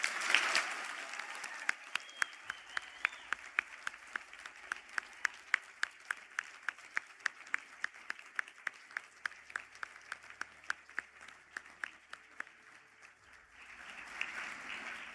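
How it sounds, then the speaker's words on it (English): Sustained applause from an audience at a university conferring ceremony in Galway, honoring graduating biology and marine science students; scattered individual claps stand out sharply over a steady crowd patter that swells again near the end. "stand for a round of applause"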